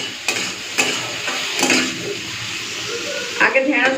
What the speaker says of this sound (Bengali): চলুন ঢেঁড়সটা ভালো করে আগে ভেজে নিই।